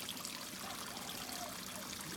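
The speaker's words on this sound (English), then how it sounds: "You see the waterfall is going on" Steady water trickles and pours from a small waterfall in an aquaponics system, a continuous soft broadband splash running evenly throughout with no talk.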